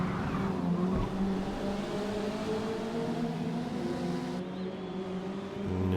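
Spec race car driving in Forza Motorsport multiplayer, giving a steady loud engine drone at high revs with a slight pitch change near the end and no talk.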